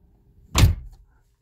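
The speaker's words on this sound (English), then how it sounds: "open the door" The door of a Chevrolet Impala opening after the key is taken out, a single short, close mechanical clunk and thump that fades quickly in a quiet car interior.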